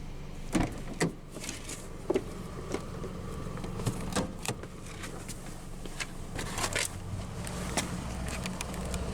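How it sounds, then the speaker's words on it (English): A 2010 Scion tC's automatic power driver's window rolls down, a steady motor whir running across several seconds with a few sharp clicks and knocks near the start, recorded close inside the car. "let's go ahead and roll down the driver's window and take a look at the engine"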